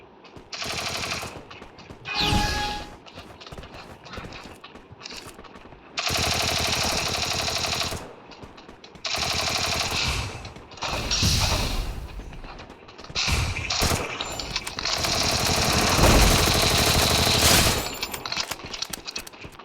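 Gunfire in the Free Fire Max mobile battle game: loud, dense bursts of rapid automatic fire broken by brief gaps, with crackling impact and breaking sounds between the bursts, and no voices over it.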